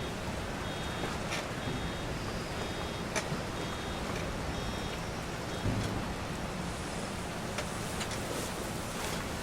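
Heavy rain pours steadily in the Farming Simulator 25 farming game, a dense continuous hiss of drops striking surfaces with a faint rumble beneath, with no talk over it.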